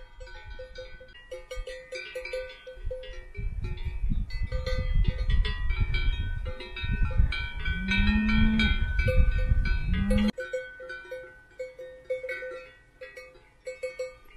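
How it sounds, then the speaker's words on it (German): Cowbells clank continuously while cattle moo low and drawn out nearby on a foggy mountain road in the Western Alps, with a rumbling background underneath. "Die Kühe hört man. Die Glocken."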